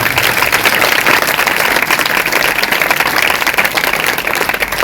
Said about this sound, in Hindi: अगर आई है तो जोर से तालियां बजाएं।